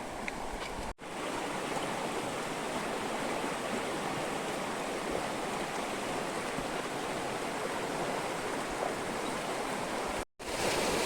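Fast-flowing stream water in the hills of the Konkan region rushes with a loud, dense, continuous roar close by, with two brief dropouts.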